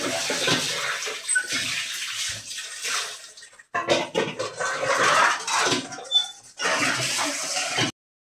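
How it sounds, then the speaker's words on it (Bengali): Running water splashes continuously as plates and dishes are washed by hand, with clattering of dishware, one brief pause in the flow, and the stream cutting off at the end. "এখন আমি এই যে থালি বাসন ধুমু টিউল করে।"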